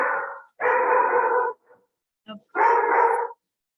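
A dog barks close and loud in a kitchen: three long, sustained barks separated by short pauses, with a couple of faint yips between them.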